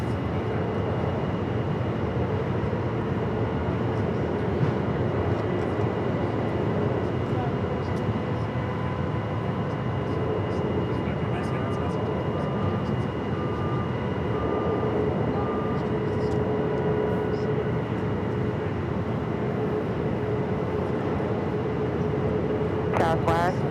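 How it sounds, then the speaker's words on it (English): A Frontier Airbus A321 airliner taxis across a bridge toward the Terminal 3 gates at Phoenix Sky Harbor, a steady distant jet-engine rumble and whine running unbroken with faint background noise. "Another Frontier A321 about to cross over the bridge, head over there to the Terminal 3 gates."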